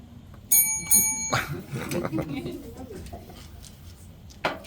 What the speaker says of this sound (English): It also had a doorbell, which the first elephant rang.